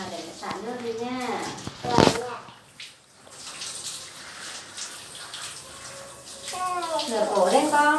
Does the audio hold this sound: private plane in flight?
no